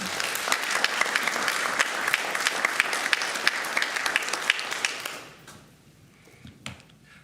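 A room full of people at a school board meeting applauds student musicians, brisk and dense clapping that holds strong for about five seconds, then quickly dies away to a few scattered claps.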